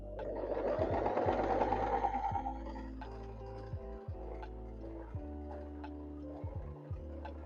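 A sewing machine stitches a quilt piece corner to corner in a quick, whirring run that then slows into separate ticking stitches and soft clicks, heard up close and quiet.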